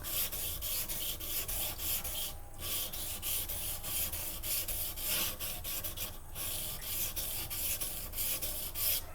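A kitchen knife is ground on a waterstone while its V edge is reworked into a convex edge: steady, rhythmic rasping strokes repeat closely over nine seconds with a couple of brief pauses, close and moderately loud, with no talking.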